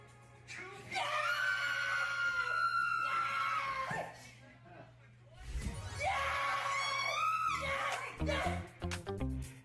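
Game show winners scream with joy in two long, loud, high-pitched bursts with a short pause between, followed by excited yelps and laughter.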